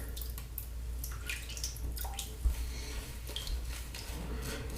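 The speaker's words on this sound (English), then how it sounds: "let's add some water" Water is added to a shaving soap lather, producing soft wet trickles, drips and light squelching up close, with faint clinks of the bowl and no talking.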